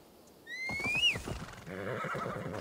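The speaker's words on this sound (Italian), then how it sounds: "Eccolo il nostro nuovo bellissimo cavallo." A horse in Assassin's Creed Valhalla whinnies loudly with a rising then falling call, followed by snorting and low rumbling movement sounds.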